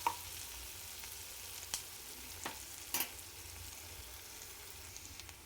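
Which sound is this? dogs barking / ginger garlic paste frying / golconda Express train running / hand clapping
ginger garlic paste frying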